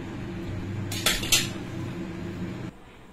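A metal spoon scrapes and clinks against a pan of carrots, beans and capsicum a couple of times over a steady low kitchen hum, with no talking.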